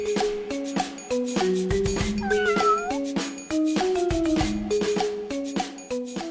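A cat outdoors on a walk meows repeatedly in drawn-out, rising and falling cries, loud and close, with short pauses between calls and no one talking.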